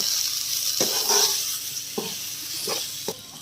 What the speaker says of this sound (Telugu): బాగా కలుపుకొని ఒక 2-3 మినిట్స్ పెట్టుకుంటే మీ ముల్లంగి కూర అయిపోయింది